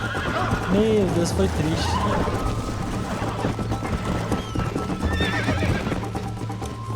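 A horse in Red Dead Redemption gallops with rapid hoofbeats and lets out a loud neigh early on, while someone talks over the game sounds.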